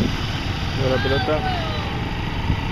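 A motorcycle engine holds steady at around 4,000 rpm in second gear, a continuous close drone with no pauses and no voices over it.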